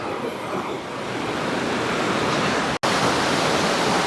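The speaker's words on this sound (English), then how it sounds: "A river. It's like a river." A cold mountain creek in the Bighorns rushes loudly and steadily, a dense close roar of flowing water with no voices, briefly cut by a momentary dropout near the end.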